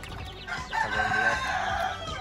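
Young two-month-old chickens in a coop on a small backyard farm give a short burst of crowing and clucking calls, close and fairly loud, with no talk over them.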